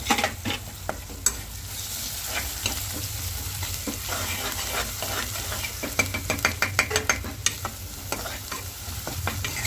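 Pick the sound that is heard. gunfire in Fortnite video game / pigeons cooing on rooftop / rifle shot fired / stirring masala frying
stirring masala frying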